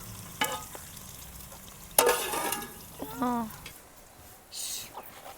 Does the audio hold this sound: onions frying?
yes